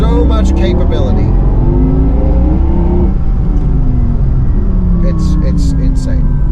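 Porsche Taycan Turbo GT electric car pulling hard under acceleration, a steady loud drive rumble with rising whine, heard under continuous talk from a person inside.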